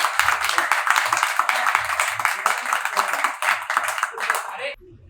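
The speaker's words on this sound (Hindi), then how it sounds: "तालियां भाई बजनी चाहिए" An audience at a stand-up comedy show claps, a dense steady burst of applause lasting several seconds before cutting off abruptly, with a voice talking briefly underneath.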